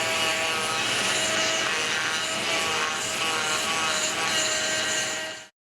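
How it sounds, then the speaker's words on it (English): A Dremel rotary tool grinds out a bolt hole in a replacement cylinder head for an R53, a steady close high-pitched whine held throughout before cutting off abruptly at the end. "I'll just Dremel it out a bit, and there should be room to put all the bolts in"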